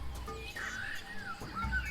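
A short bird call plays in the well puzzle of the video game Tales of Monkey Island, a few chirpy rising notes over a low background hum.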